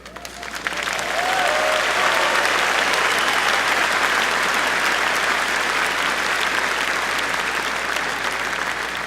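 Loud, sustained audience applause at a May 2019 commencement, swelling quickly into a dense, even roar of clapping that holds steady for nearly nine seconds without talk.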